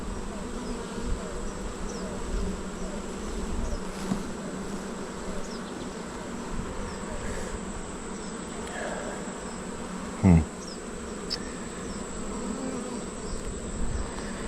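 Honey bees buzzing steadily around an opened hive during an inspection, a dense continuous drone close by, with a brief knock partway through and no talking.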